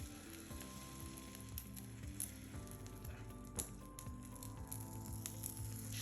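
Banana pancake batter sizzles in a buttered pan, a steady close crackling fry with small pops and a faint tonal hum underneath, continuous for several seconds without speech.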